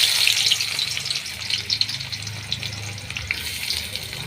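Sliced onions for birista fry in hot mustard oil, giving a steady, close crackling sizzle with bright spattering pops throughout and no talking.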